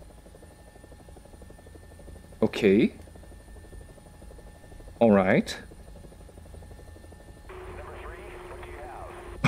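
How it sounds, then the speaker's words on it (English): A helicopter in the War Thunder VR video game gives off a steady low buzzing drone while someone speaks briefly twice over it and a burst of other game noise cuts in near the end. "I'm gonna play a helicopter."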